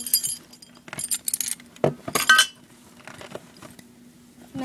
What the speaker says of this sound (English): my house keys